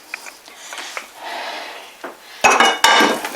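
Tuna noodle casserole sauce stirred in a pot, with light clinks and scrapes of a utensil followed by two sharper knocks against the pot near the end, close by.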